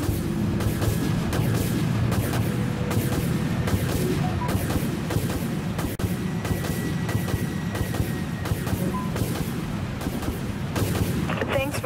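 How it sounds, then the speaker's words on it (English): Missile launches in the space-warship game Dreadnought: a steady run of booming, artillery-like thuds repeating roughly every second against a constant rumbling background, with voices over the barrage. "We're locked on, Captain. Missiles away!"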